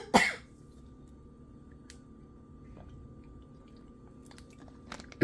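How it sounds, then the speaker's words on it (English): A sharp cough or throat-clearing bursts out up close, followed by a long, near-silent stretch with faint small sounds of sipping water, then another abrupt cough at the very end. "I'm going to stop just a minute and take me a drink of water because I'm getting ready to cough again"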